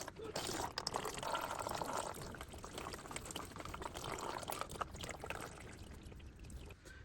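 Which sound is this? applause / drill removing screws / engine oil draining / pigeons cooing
engine oil draining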